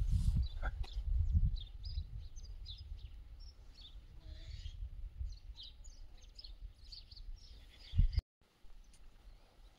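Birds chirp in a quiet mountain area, with scattered light tweets throughout over low rumbling handling or wind noise and a brief thump near the end.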